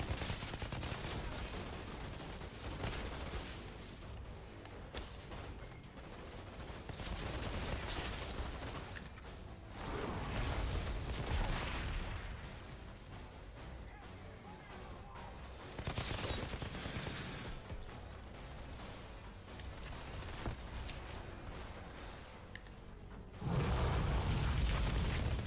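Repeated bursts of gunfire and booming impacts while fighting enemies in the shooter Outriders, loud and sustained over the whole stretch with short lulls between volleys.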